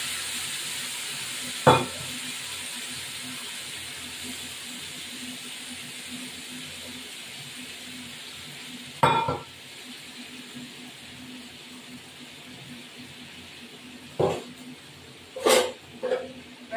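Onion and spice masala of chili powder, ginger-garlic, onion and tomato paste frying in a pan, giving a soft, steady sizzle with a few sharp clinks of stirring scattered through; no one talks.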